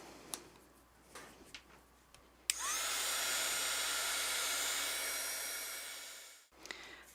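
A heat tool melts embossing powder on a black and gold bauble holiday card. After a few soft taps, a steady, close blowing whir starts abruptly, holds for about four seconds, then cuts off.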